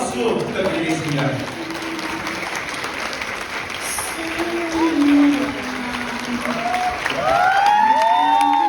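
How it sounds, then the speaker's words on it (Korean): An audience applauds at a wedding ceremony, steady clapping filling the room throughout with some crowd noise mixed in. "여러분들 뜨거운 박수 부탁드리겠습니다."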